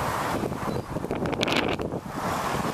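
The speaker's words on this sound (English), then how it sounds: "It's windy." Wind buffets an outdoor microphone in steady, roaring gusts on a road where a 1965 Honda CT motorcycle is being ridden, loud and close throughout, with no speech.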